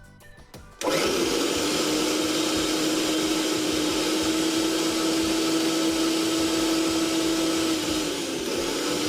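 A repaired mixer grinder switches on after a few clicks and runs with a loud, steady high-pitched whine and motor hum, close and continuous, slowing slightly near the end.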